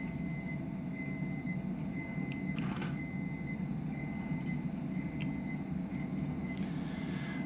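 Caltrain cab in Train Sim World 2 on the Peninsula Corridor, soft high electronic beeps repeating over a loud steady rumble of the running train.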